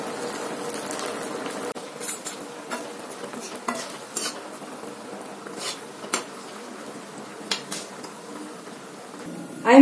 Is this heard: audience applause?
no